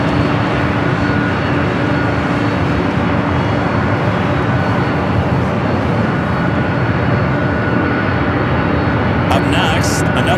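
A Boeing 767 at Los Angeles airport (LAX) produces a loud, steady jet engine roar that fills the whole stretch without letup, close and continuous, with faint crowd noise beneath it.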